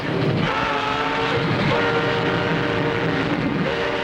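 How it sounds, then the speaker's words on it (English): Loud, continuous rumbling of a train in a tunnel, with a droning tone over heavy rolling noise, constant throughout. "A train in the tunnel!"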